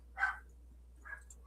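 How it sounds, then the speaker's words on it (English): A dog named Rosie barks twice in the background, faint and distant, with a short gap between the two barks in an otherwise quiet room. "That's Rosie in the background barking."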